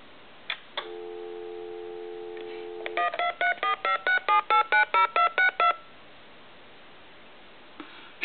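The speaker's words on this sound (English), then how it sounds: "And now I'm going to hit redial." Telephone redialing a number: a short pair of beeps, a steady two-tone dial tone for about two seconds, then a quick run of about ten evenly spaced DTMF keypad tones, loud and close, ending in quiet.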